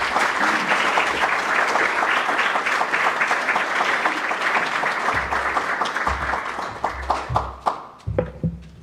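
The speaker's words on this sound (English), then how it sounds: "with your very warm applause, please welcome to the stage" Sustained warm audience applause at a CSIS event in Washington welcoming the Pakistani Foreign Minister to the stage, a dense roomful of clapping that thins into scattered claps near the end.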